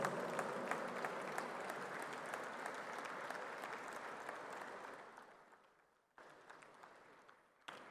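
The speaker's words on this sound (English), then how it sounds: "applause." A large audience at a university convocation gives a long, steady round of applause, dense clapping that holds for about five seconds, then tapers off, with a brief lull before a softer resurgence.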